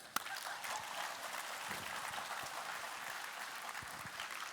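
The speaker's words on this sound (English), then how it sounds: "Give yourself a clap." A seminar audience claps together in a dense, continuous patter of many hands, steady and moderately loud throughout the short burst, with no talking over it.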